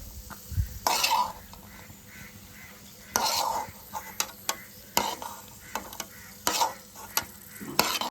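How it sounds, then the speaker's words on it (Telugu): Fried raisins scooped out of a pan into a bowl while making temple-style bellam pongali, with a soft sizzle underneath and several sharp scraping clinks of a spoon against the pan and bowl at irregular intervals. "కిస్మిస్ వేగిపోయినాయండి ఇప్పుడు బౌల్లోకి తీసేసుకుందాం"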